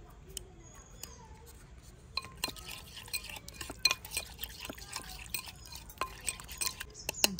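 A spoon stirs a marinade of chili powder, turmeric, ginger-garlic paste and yogurt in a bowl, giving quiet scraping clicks and soft wet squelches that start sparse, then turn steady and rhythmic.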